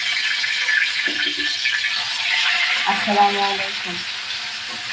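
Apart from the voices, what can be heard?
fish frying in hot mustard oil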